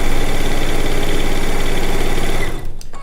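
A sewing machine stitches quilt blocks together for a Lacey Log Cabin quilt top, running in a fast, even, close mechanical whir that stops abruptly near the end, followed by a few faint clicks.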